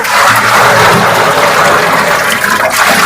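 Water gushes and splashes loudly and steadily into liquid jeevamrutham organic fertilizer being mixed, a continuous rushing pour close by.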